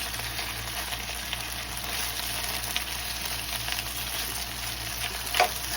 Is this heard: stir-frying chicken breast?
yes